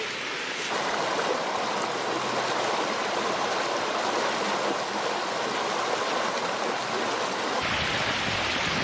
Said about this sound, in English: Such a beautiful creek.